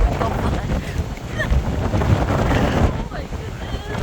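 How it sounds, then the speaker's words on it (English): Steady, loud wind buffeting the microphone at the top of Mount Tibidabo in Barcelona, a continuous rushing roar with faint voices underneath. "At the top, it's so windy."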